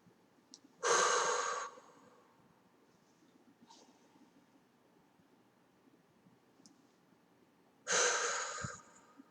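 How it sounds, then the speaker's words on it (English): Two slow, deliberate breaths, in through the nose and out through the mouth, each a loud close airy rush of about a second, separated by several seconds of near silence. "take a few breaths in through the nose, out through the mouth"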